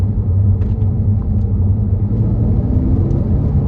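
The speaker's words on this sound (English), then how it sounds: "that naturally aspirated injector noise, that tapping noise, you know, it's very distinctive, and yeah, very iconic to the Porsches." A 2009 Porsche Boxster S with the naturally aspirated 3.4 engine and PDK gearbox, its fuel injectors tapping, runs with a loud, steady low rumble that continues unbroken throughout. No one speaks.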